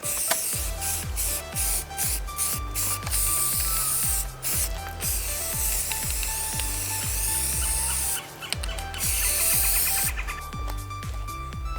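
Rattle can spray paint coating a Ford F350 grill, a steady loud hiss of spray running almost continuously, with brief pauses, over a repetitive rhythmic background beat.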